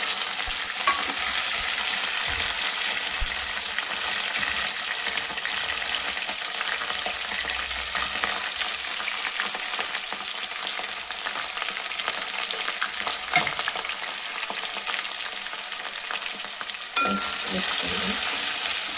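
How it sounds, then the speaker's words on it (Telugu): Green chillies, onion, curry leaves and coriander fry together in a pan with a loud, continuous hiss of oil, steady throughout with occasional stirring scrapes, for a red amaranth dish. "ఇందులో పచ్చిమిర్చి, ఉల్లిగడ్డ, కరివేపాకు, కొత్తిమీర ఇవన్నీ ఒకటేసారి వేసుకోవాలి."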